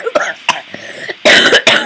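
A few sharp, close coughs in quick bursts, then a louder, rougher run of coughing near the end.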